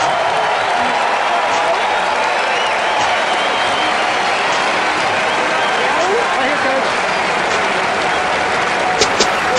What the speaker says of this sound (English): Let's give a big, hooky round of applause.